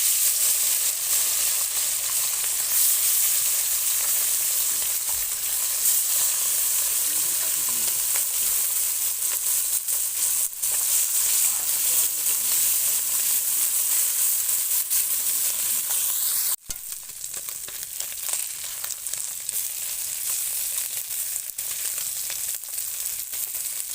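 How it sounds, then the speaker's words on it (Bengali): Turmeric-coated bata fish frying in hot oil in a wok, a loud, steady crackling sizzle that runs throughout with brief stirring noises and no talk. "মাছগুলোকে আমি হলদি দিয়ে মেখে রেখেছি এরপরে আমি ভাজবো"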